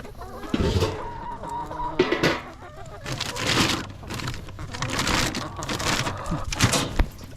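Chickens cluck and squawk in bursts close by, a busy flock calling irregularly through bouts of rustling and scuffling noise, with no one speaking.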